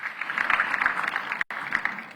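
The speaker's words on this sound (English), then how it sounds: "Let's give them another round of applause for this Scene Setter Plenary." A summit audience gives the panelists of a plenary session a round of applause, fairly soft and steady, with a brief sharp cut near the end.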